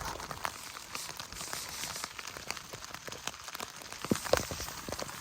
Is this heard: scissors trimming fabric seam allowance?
no